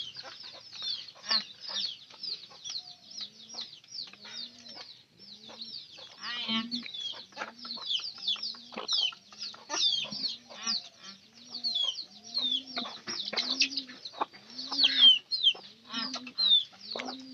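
Several hens cluck continuously close by, a busy overlapping chorus of short clucks and squawks with no one speaking.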